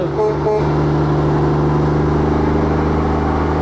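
Pilon's Trucking water truck rolls past in a small-town parade in Chazy, its engine a loud, steady close drone with a brief higher horn-like tone near the start.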